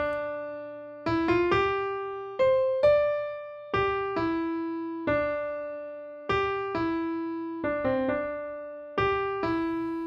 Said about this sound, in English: The main theme, the Ballad of the Goddess from Skyward Sword, sounds like this.